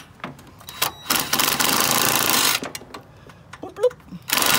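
Power tool running down bolts on a Craftsman T2400 46-inch mower deck, a loud buzzing whir in short bursts with pauses between, close by, with someone talking in the gaps.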